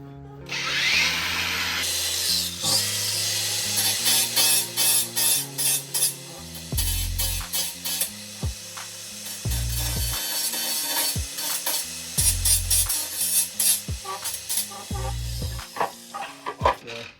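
A budget cordless angle grinder trims away material, its loud, rough whine running through the whole clip and surging and dipping in repeated bursts as the cut is worked.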